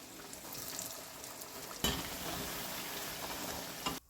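Pakoras frying in hot oil for kadhi: a steady, close sizzling hiss that jumps louder at once as more batter drops in, then keeps crackling evenly, with no voices.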